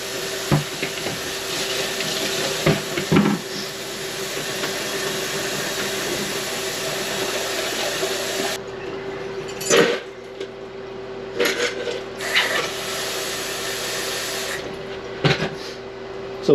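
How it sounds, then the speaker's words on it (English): Small plating pots flushed with clean running tap water after a zinc plating acid bath, a continuous close water rush with intermittent clanks and splashes, no speech. "And then the rest you can flush the pots with clean water."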